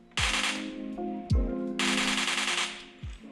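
Bursts of PUBG mobile gunfire, automatic and single shots, played from a Redmi Note phone's loudspeaker, with two rapid volleys and sharp low thumps at intervals, loud and close with no talking.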